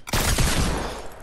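Gunfire in the video game Fortnite, a loud, close burst of rapid shots blending into a dense, ringing roar that slowly decays.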